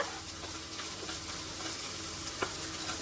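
Tender tamarind leaves roast in a pan with soft, continuous sizzling and light scraping strokes of stirring, fairly quiet and steady throughout.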